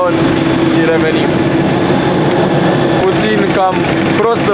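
Airplane engines idling inside the cabin before takeoff, a loud steady drone with a persistent hum throughout, while a person talks over it.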